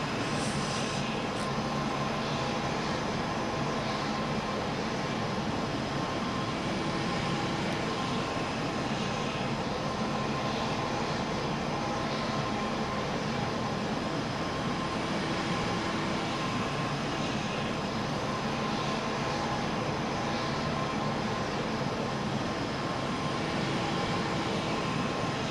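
Engines of a C-17 Globemaster running in Flight Simulator 2020, a steady loud broadband roar with a constant whine and hum that holds unchanged throughout, with no talk.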